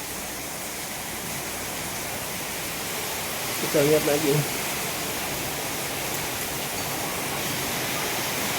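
Steady rain keeps falling outside beyond a house terrace with a leaking concrete roof, a dense even hiss throughout, with a brief faint voice speaking near the middle.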